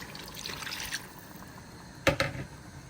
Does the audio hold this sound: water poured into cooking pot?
yes